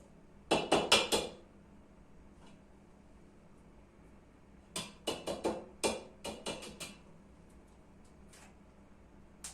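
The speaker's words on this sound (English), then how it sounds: "Time to crack the egg, or try to at least." An egg cracked against a bowl at home while making garlic meatballs: a quick cluster of sharp taps, a pause, then a second longer run of taps and clinks, close and clear with no talk.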